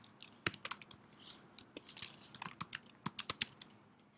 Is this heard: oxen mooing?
no